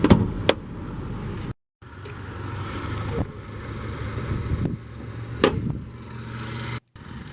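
A 2015 Honda Accord LX with the 2.4-liter Earth Dreams inline-4 idles under an open hood, a steady mid-pitched hum with a few sharp clicks and brief cutouts, fairly close.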